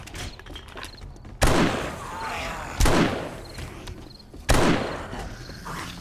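Rifle shots ring out in the video game 7 Days to Die, three sharp, loud cracks spaced about a second and a half apart, each trailing off into a faint background hum with no voices.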